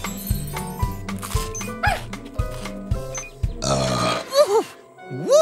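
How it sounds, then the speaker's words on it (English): A cartoon character lets out a big burp amid bouncy children's song music, with rhythmic beats and playful tones; the burp comes late as a loud, rumbling sound under the music. "That was a big burp"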